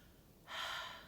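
A single sharp, breathy blow of rapé snuff into the second nostril starts about halfway through, a brief forceful puff of air rising after a quiet pause, with no talking.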